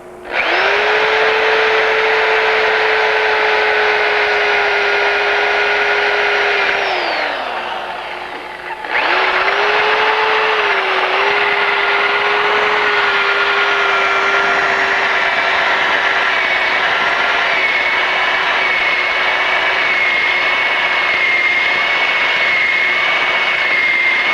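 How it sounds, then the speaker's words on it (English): A drill bores a hole in a lugged bicycle frame tube, a loud, steady whine that drops off briefly near the middle and then resumes and holds until the end. "Don't normally use a drill that way, but always a new way to do something, huh?"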